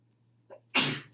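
A single sharp sneeze, preceded by a quick intake of breath, close and loud against a quiet room with a faint hum.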